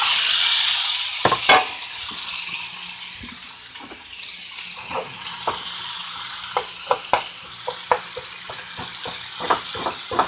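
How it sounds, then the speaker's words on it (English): Vegetables fry in oil over high heat for tomato Swiss steak, a loud broad sizzle that eases slightly, punctuated by a dozen or so sharp clicks and scrapes of a utensil stirring in the pan. "We're about to add all the yummy vegetables and fry them up too"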